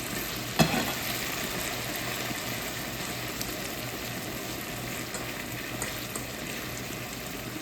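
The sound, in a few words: saltfish with okra, tomatoes and vegetables cooking in pan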